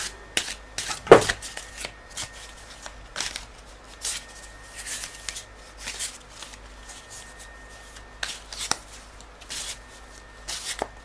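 Tarot cards being shuffled and drawn at a table, soft papery flicks and riffles in scattered bursts with one sharper slap, close and fairly quiet with no talking.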